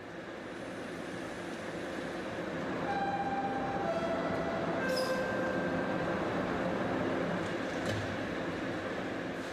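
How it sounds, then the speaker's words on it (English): A subway train moves through a busy underground transfer station, where riders switch to lines running east and west, with a steady rumble, rail noise and brief high squeals rising and fading over the continuous din. "Almost a million riders use my subway cars every day."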